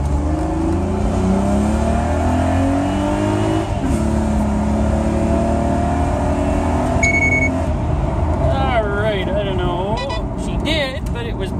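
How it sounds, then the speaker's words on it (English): A modified, weight-reduced Pontiac G6 GTP accelerates hard from a standstill toward 60 mph with traction control on, its loud engine note climbing through the gears in rising, sweeping tones close by. "The engine's warmed up, and I'm going to give her and see what she'll do."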